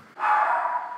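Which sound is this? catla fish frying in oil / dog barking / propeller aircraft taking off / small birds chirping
dog barking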